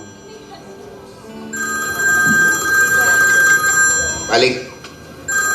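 A telephone rings with a steady electronic tone, heard under people talking nearby and a brief clatter.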